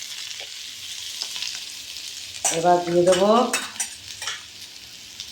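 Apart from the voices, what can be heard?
potato and paneer frying and being stirred in a pan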